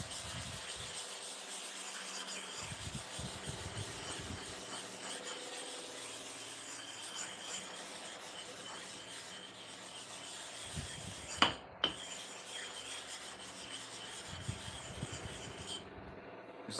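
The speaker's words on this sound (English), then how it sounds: "Now I want to sharpen for the bottom clipper blade." A clipper blade is rubbed back and forth across an oiled sharpening surface, making faint, steady scraping strokes close by, with a couple of brief sharp clicks near the end.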